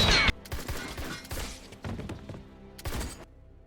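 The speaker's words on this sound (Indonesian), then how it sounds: "Baku tembak pun sudah dilakukan." Gunfire exchange in a survival film: several separate bursts of shots and thuds at uneven intervals, the first loud and sharp, later ones quieter with brief lulls between them.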